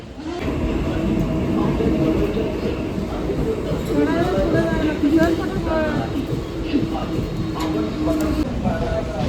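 A Mumbai local train rumbles and rattles at Mahalaxmi station platform while several people talk nearby over the noise.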